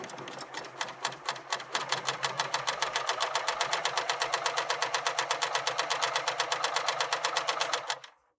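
A sewing machine stitches a seam at a quick, even pace, its rapid rhythmic clatter loud and close for several seconds before abruptly stopping into silence.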